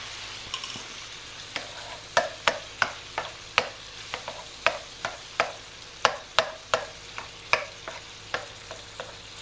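Cream cheese being stirred into a hot, creamy pasta bake sauce, with a steady run of soft, wet clicks and scrapes from a spoon against the pan, close and fairly quiet, no talking.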